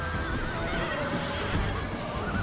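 Horses neigh and whinny amid a dense, steady battle din in Rome Total War, with hoof clatter mixed into the continuous wash of combat noise.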